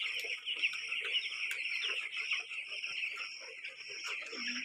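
Chickens cluck steadily on a farm near a rice-growing setup, a dense continuous chorus of bird calls with occasional louder squawks throughout.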